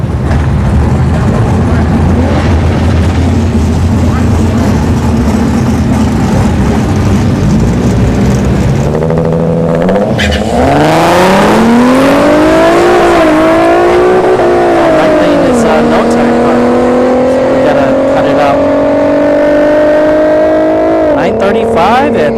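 An Infiniti Q50 and an S197 Mustang launch side by side at a drag strip, engines revving loudly and climbing through gear changes in a long roaring pull, with an announcer talking over the cars.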